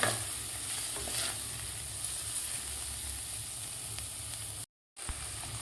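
Dry spices sautéing in hot oil for khichdi, with a steady close sizzle and hiss and light stirring scrapes, broken once near the end by a brief gap of silence before the sizzle resumes.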